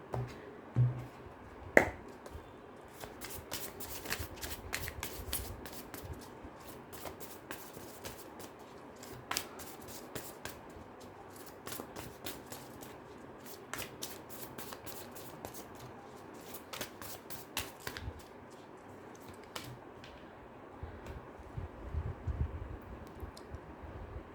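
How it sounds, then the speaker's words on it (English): Rapid crisp riffles and snaps of a tarot deck being shuffled repeat in quick bursts, close and fairly quiet, with soft handling rustles between them and no talking. "Let me just cut the deck for you, and I'll shuffle it one more time"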